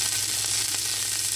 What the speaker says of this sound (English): I have 2 tablespoons of Country Crock Light in a skillet